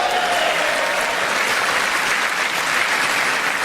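A political audience applauds during a presidential speech, a steady, dense wash of clapping that carries at even loudness without a break.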